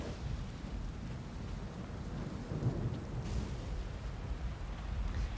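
Heavy thunderstorm with rain in the video game South of Midnight: a steady, loud wash of rainfall with low rumbling thunder rolling underneath, swelling slightly midway and continuing throughout without voices.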